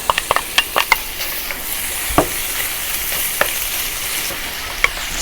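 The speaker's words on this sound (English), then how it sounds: "Saute the onion for a few minutes over medium heat until the onions start to turn color." Onion sautéing in a pan of hot oil with cloves and cinnamon for beef masala gives a steady sizzle with crisp pops and stirring scrapes, loudest near the start, then a continuous fry with no voices.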